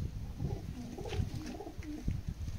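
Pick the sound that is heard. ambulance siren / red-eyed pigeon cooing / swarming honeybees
red-eyed pigeon cooing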